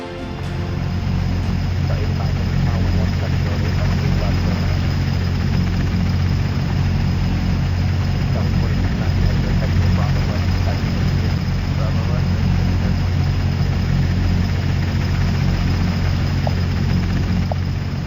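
Airliner in the Airline Commander flight game, a steady loud droning engine hum that never lets up, with someone talking over it.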